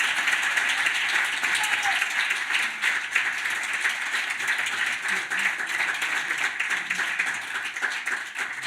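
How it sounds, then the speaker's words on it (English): A conference audience applauds its speakers with steady, dense clapping that holds for several seconds and fills the hall evenly. "Please give a warm applause to our speakers."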